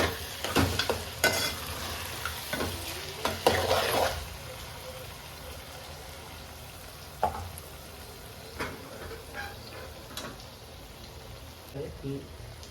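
Tomato and ginger-garlic paste frying in a pan for biryani, a steady soft sizzle with occasional stirring scrapes and clatter, louder early on then quieter, with some background voices.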